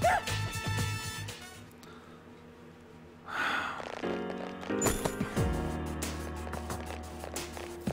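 A dog barks in the PS2 video game Persona 3: a few short, bright yaps and whimpering sounds, clear and close, mixed with tonal game music and effects.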